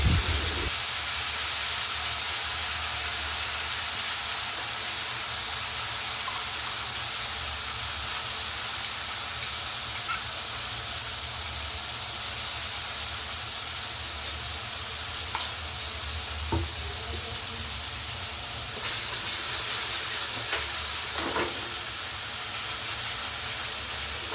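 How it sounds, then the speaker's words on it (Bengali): Spice paste sizzles and fries steadily in a hot pan for Bengali fish curry, a continuous close hiss with occasional stirring scrapes and small pops, no voices. "পেস্ট করা মশলাটা এখন এখানে দিয়ে দেওয়া হয়েছে। ভালো করে এটাকে সাঁতলে নেওয়া হবে।"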